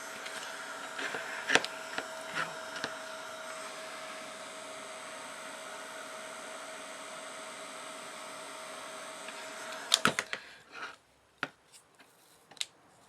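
A heat tool, like a hair dryer, blows a steady whirring roar onto a rubber stamp being loosened from its wooden block, running unbroken for about ten seconds before cutting off, followed by a few faint clicks and handling taps.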